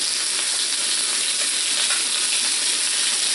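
Lamb chops fry in a hot pan with a loud, continuous sizzle and crackle, close up and steady, with no voices.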